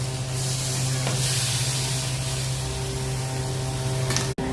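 A homemade chili paste of garlic, vinegar and dried chili fries in a pan for a fish curry, making a loud, steady sizzle with a low hum underneath, ending with a brief sharp knock.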